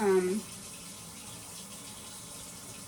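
Dishes being washed under running water from a kitchen tap, a steady, even rush of flowing water that follows a brief tonal sound at the very start.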